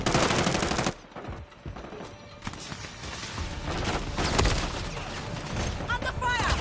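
Rapid gunfire crackles in Call of Duty Modern Warfare 3, loud dense bursts and overlapping shots that persist throughout, with voices calling out over the shooting.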